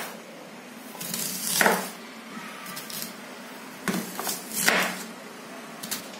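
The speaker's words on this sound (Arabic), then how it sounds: "نكملوا تقطيع البصله الثانيه نفس الامر كذلك" Kitchen knife cutting through a second onion into rings on a board, a few crisp crunching slices with short pauses between, fairly quiet and close.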